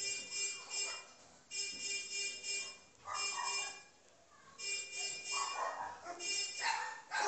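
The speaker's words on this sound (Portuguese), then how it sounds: "Tem uns cachorros latindo." Several dogs bark in repeated bursts with short pauses in between, heard faintly in a Minecraft session, with some voices mixed in.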